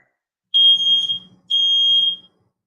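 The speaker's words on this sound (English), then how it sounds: "The smoke alarm went off." A smoke alarm gives two long, shrill beeps, separated by a short pause, in an otherwise quiet room.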